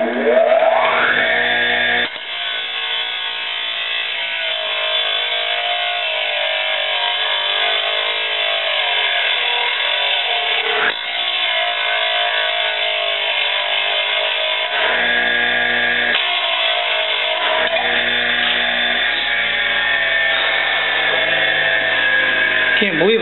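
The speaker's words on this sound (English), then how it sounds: "That's what's left of the rivet off after you grind the head off." A handheld power tool grinds the head off a steel rivet: a steady, loud, high-pitched whine that runs for about twenty seconds with brief dips where the load changes, then cuts off near the end.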